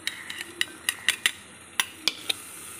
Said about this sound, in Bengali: প্রথমে আমি আলুটাকে ভেজে তুলে নেব।